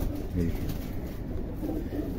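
Highflyer pigeons give low, soft cooing close by, repeated murmurs over a steady background hum, with someone talking throughout.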